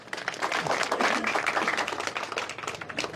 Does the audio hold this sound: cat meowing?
no